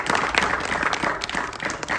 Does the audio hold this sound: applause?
yes